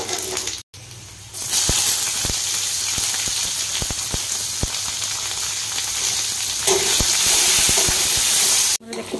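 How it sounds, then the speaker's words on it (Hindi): Garlic sizzles and fries in a hot pan with a dense, steady crackle, with occasional sharp ticks of stirring and a brief drop near the start and end. "रसुण भी फ्राए कर"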